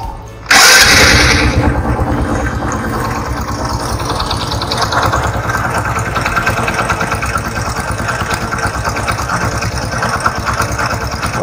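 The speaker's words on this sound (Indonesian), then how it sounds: "kita coba nyalakan di elektrik starternya ya" A 2013 Honda Supra X 125 R motorcycle fires up on its electric starter with a brief whirring crank, then settles into a steady, even idle that runs on loud and close.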